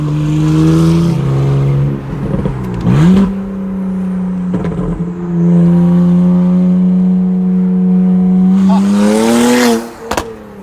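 A single-turbo BMW 335i under hard acceleration from inside the car, engine droning loudly and rising in pitch through gears with brief drops at shifts, no talk.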